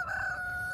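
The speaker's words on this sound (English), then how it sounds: "That other black Americana rooster's coming in." A black Americana rooster crows once on a farm, a loud, close, sustained call with no talking over it.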